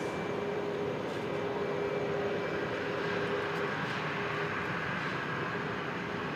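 Velocity 799 airliner taking off from Brisbane Airport toward the new runway: a steady, broadband engine roar that holds at an even level for several seconds, heard from a distance with no voices.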